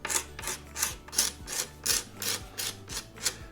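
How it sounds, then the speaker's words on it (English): A scraper rasps old finish off a mid-century modern wooden side table in about nine steady, evenly spaced strokes, close and moderately loud, each pull ending with a short low thump. "So I'm going to just scrape the entire piece"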